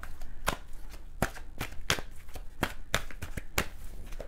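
Tarot cards being shuffled, giving a string of sharp, separate riffling snaps spaced irregularly over a quiet background, with no talking.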